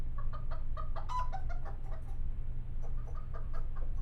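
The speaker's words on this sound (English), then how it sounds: "Our chickens, Henny, Penny, and Maxine." Chickens cluck in a game scene, a busy overlapping run of short clucks and squawks over a steady low background hum, fairly close.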